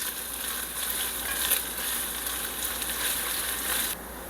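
Onion frying in a pan over medium heat gives a steady, dense, hissing sizzle that stays close and fairly loud throughout, then eases slightly at the very end.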